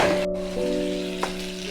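Pointed gourd and potatoes sauté in a pan for tel potol, giving a steady hissing sizzle under a persistent humming tone, with a couple of soft stirring knocks.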